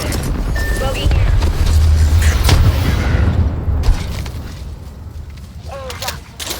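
A frag grenade explodes in the Apex Legends video game, a broad muffled boom rolling out amid game effects and faint background noise, fading over a few seconds.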